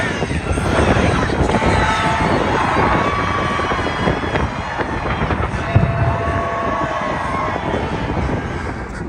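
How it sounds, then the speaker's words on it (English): Strong wind roars across the open pavement of Leicester Square in London, a steady broadband rush with gusts and buffeting on the microphone, mixed with distant city noise and no talking. "here we are at a very windy Leicester Square"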